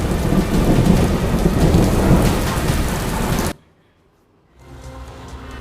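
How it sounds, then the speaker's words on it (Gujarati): A heavy downpour in Ahmedabad roars loud and close with rolling thunder mixed in, then cuts off abruptly to near silence before a softer steady rain fades back in. "અમદાવાદમાં ઘણા સમય પછી એક જોરદાર વરસાદ થયો"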